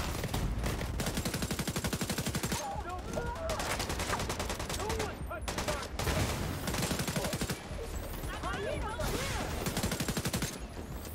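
Bursts of rapid gunfire from a gun in the video game The Division 2, loud and dense with brief pauses between volleys, mixed with game effects and some speech.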